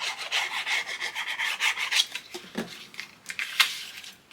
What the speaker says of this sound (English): even when you are burnishing your fold lines for flaps and so forth